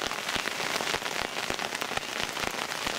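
Hailstones pelt down outdoors at a carp fishing spot in a steady, dense patter of hard hits on the ground and surfaces, loud and continuous with no talk.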